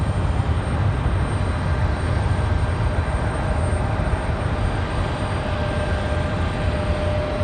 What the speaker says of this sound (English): we've got JetBlue 725. This one headed to Fort Lauderdale, an A220-300